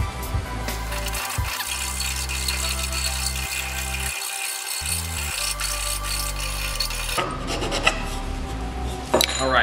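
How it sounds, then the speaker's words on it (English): A rasp files a wooden spoon being carved by hand, a continuous loud scraping and rubbing with rhythmic strokes and some rattling over nearly ten seconds, close by. "you don't need to watch me do a bunch of filing"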